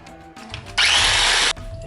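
A food processor roughly chops chilies for lamb and aubergine kebabs in one loud, steady whirring burst of under a second, with quieter room noise before and after.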